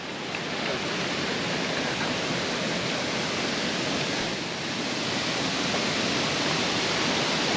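River water rushes steadily past a small water mill at Janjske otoke near Šipovo, a constant broadband roar close by with no voices.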